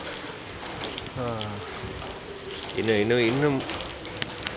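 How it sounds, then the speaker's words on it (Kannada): Afternoon rain falling outdoors during cooking makes a steady, rushing hiss of water that stays even throughout, while a person speaks briefly twice over it. "ಈಗ ಮಳೆ ಬರ್ತಾ ಉಂಟು ಈಚೆ"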